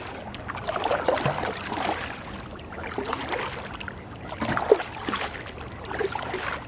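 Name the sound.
paddling a canoe on a river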